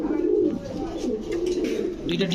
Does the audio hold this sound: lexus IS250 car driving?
no